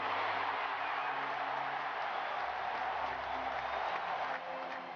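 Home crowd at Wimbledon in 2015 roars and applauds in a dense, steady wash of clapping and cheering that fills the whole stretch, easing slightly near the end.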